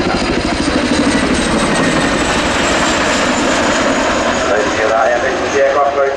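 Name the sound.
RAF Chinook helicopter rotor blade slap at air show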